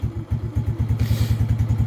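A Lifan King motorcycle engine that has just stalled fires back up, a close, rapid thumping putter with a rattly clatter that runs evenly and steadily.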